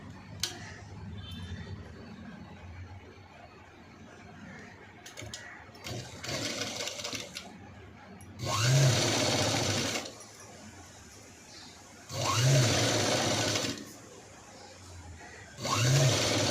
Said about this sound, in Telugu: హ్యాండ్ చెక్ చేసుకున్న తర్వాత స్టిచ్ అనేది స్టార్ట్ చేసుకోవాలి.